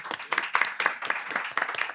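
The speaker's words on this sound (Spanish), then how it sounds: "un aplauso para ellos" Audience at a film festival talk applauds, a soft, distant patter of many hands clapping, fairly faint and unbroken for two seconds.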